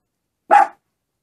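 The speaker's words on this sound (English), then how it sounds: "What are you barking for?" A dog lets out a single short, sharp bark indoors, close and fairly loud, with silence before and after.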